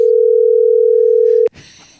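A telephone handset plays a loud, steady continuous dial tone that cuts off abruptly, followed by faint handling noise.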